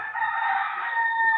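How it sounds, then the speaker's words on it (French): A rooster crows in Haiti, one sustained tonal call held near and fairly loud, with nothing else heard over it. "donc c'est pour ça qu'on entend le coq chanter"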